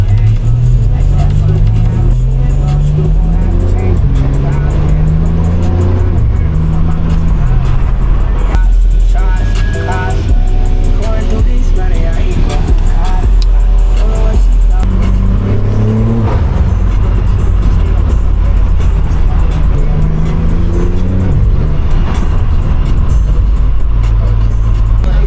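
A BMW G80 M3 engine drones loudly from inside the car while driving in rain, with traction control off, the tone rising and falling through repeated revving sweeps and gear changes for the whole stretch.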